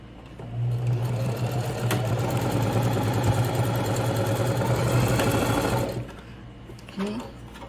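A sewing machine runs in one steady, loud buzzing burst for about five seconds while stitching the corners of a toiletry and makeup box pouch, then stops and a voice speaks briefly.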